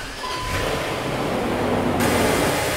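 Steady, loud broadband roar of a Range Rover's BMW 4.4L V8 running at a constant idle, warming up after a valley pan gasket replacement; continuous and close with no talk.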